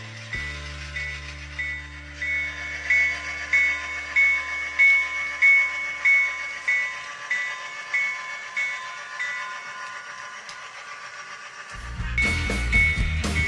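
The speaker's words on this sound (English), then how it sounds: "train number 12 works its way out of Waverly Yard" A model freight train on the Willow Creek Railroad rolls out of Waverly Yard with rhythmic chuffing and a sustained whistle-like tone, its mechanical hum building and growing louder toward the end.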